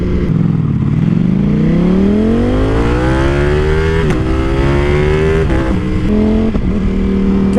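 Motorcycle engine carrying a rider and passenger, a loud steady drone whose pitch climbs smoothly as the bike accelerates, then settles and shifts between gears, with wind rumble throughout.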